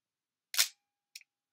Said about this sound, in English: this is the sound of the Nikon, the shutter, which is a fabulous sound.